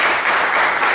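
A brief burst of dense, steady applause from the crowd at a memorial event, loud and continuous with no voices over it.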